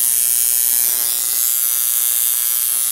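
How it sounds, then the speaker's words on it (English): Homemade water spark plug fitted to a 5 hp Briggs and Stratton engine, sparking as the engine is cranked, giving a steady, loud, high-pitched electric buzz that holds evenly for several seconds with no talk. "Pretty little spark."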